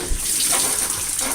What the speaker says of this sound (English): Dishwasher's not running yet, it's still filling.